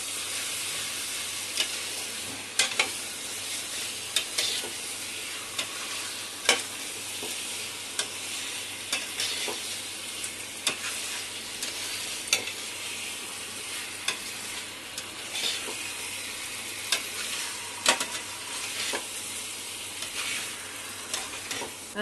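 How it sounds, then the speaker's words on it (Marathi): Half a kilo of chicken sizzles and fries in a pan while being stirred for biryani, a steady crackle punctuated by sharp scraping stirs, close and fairly loud with no talking. "चिकन है 1/2 किलो, तो आपण चांगलं परतून घेऊया."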